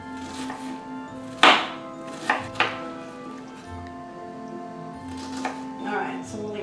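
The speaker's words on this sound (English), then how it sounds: "you're going to slice all through those cuts about 3/4 of the way down" A knife dicing vegetables on a cutting board in a home kitchen, a few sharp chops and clacks spaced irregularly, with a person talking throughout.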